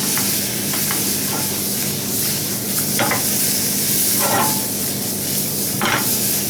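Squid innards frying in a pan with butter, a steady close sizzle and hiss with a few scraping stirs of a utensil, no voices.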